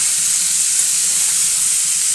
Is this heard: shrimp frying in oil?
yes